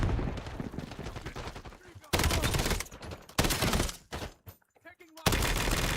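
Mortars fire in a video game, loud heavy blasts landing in abrupt bursts with rattling gunfire between them and brief drops into near silence.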